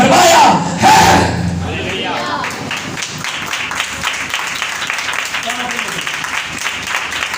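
Congregation clapping during a Sunday church service, loud bursts of applause and crowd noise at the start that fade into a steady murmur of voices and scattered claps under ongoing talk.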